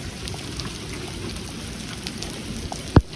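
Heavy rain with hail in Pflugerville, Austin, a steady dense roar of falling water and ice close by, with one sharp loud impact near the end.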